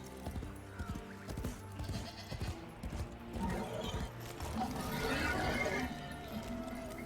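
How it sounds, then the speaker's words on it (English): Sheep bleating in the video game Warframe, a low creature-like bleat among hoof-like clopping steps, moderately close with a busier rustle of game noise building toward the end. "This one's actually a sheep."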